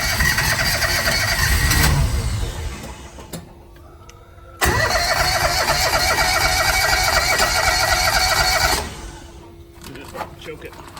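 A Kawasaki Mule 2510 utility vehicle engine, being reassembled with throttle and choke cable work, cranks and runs in two loud bursts separated by a pause. A voice talks between the runs.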